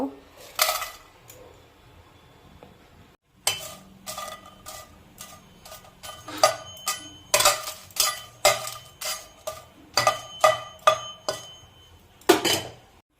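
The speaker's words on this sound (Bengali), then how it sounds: "এখন চার পাঁচটা আমি শুকনো লঙ্কা ভেজে নেব।" Four or five dry red chillies are fried in a hot metal kadai. A spatula clanks against the pan in a close, loud, rhythmic series of sharp metallic knocks after a brief quiet pause.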